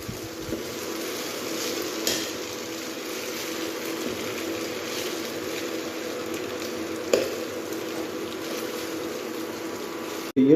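Rice is stirred in a pan while cooking tomato rice. Soft, steady scraping and gentle sizzling run continuously at low volume, with a few slightly louder knocks of the spoon against the pan.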